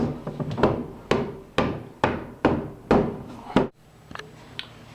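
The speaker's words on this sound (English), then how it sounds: "I use the butt end of the hammer to kind of ease it into place" A series of sharp wooden knocks from the butt end of a hammer easing an old wooden window piece into place, roughly six firm taps at an uneven pace, then a couple of lighter taps after a short pause.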